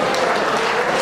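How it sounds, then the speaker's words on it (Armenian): An audience applauds to welcome a young Armenian singer, a short, dense burst of steady clapping from a crowd. "դիմավորենք ծափերով"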